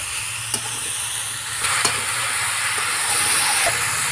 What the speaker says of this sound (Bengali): আমি পরিমাণ মতন লবণ দিয়ে দেবো। একটু কষিয়ে নেবো।